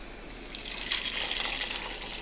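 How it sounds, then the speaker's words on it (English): Water pours from a measuring cup into a pot of lentils, a short, fairly quiet, steady splashing fill heard alone. "And then of course just add the water."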